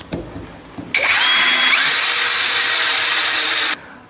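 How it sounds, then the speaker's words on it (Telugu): A cordless drill set to screw mode drives a screw into wood in one continuous burst of close, loud motor whine lasting nearly three seconds. Its pitch climbs briefly early on, then holds until it stops abruptly. "అలాగే మనం ఇప్పుడు స్క్రూని చెక్కకు బిగించి చూద్దాం."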